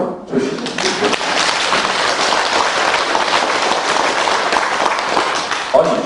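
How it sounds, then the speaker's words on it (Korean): Sustained applause from an audience at a Sunday Dharma service at Gilsangsa temple, dense clapping filling the hall for several seconds. "이쯤에서 박수 한번 주시죠."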